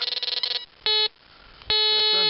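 Electronic metal detector tones sound during a detecting outing in Quebec: a quick run of pulsed beeps, then a short steady tone and a longer held tone, signalling a zinc target, loud and close with no voices.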